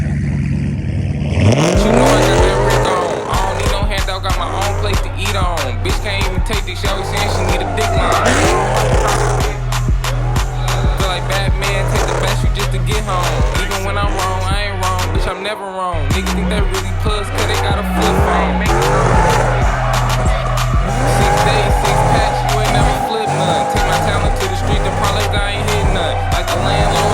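A Chrysler 300 with a 5.7 Hemi V8 revs hard and drifts, its loud engine rising and falling in repeated surges with squealing tires, all under a thumping rap track with vocals.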